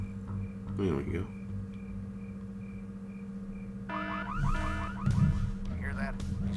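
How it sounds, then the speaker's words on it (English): An alarm sounds in the video game Full Throttle, a repeating rising electronic whoop that starts partway through over a steady low hum, with someone talking over parts of it. "We're gonna trigger back that alarm"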